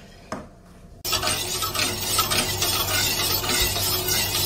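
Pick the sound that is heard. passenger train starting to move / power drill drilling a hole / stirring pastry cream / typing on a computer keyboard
stirring pastry cream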